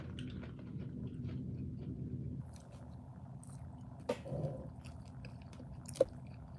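Someone chews crispy rice and a salad with ranch dressing, making soft, steady close-up mouth sounds and occasional crunchy bites, quiet with no talk.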